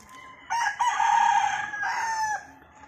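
A pure black stag rooster crows once, a loud, close, drawn-out call lasting about two seconds with a quick rising start, alone over faint background.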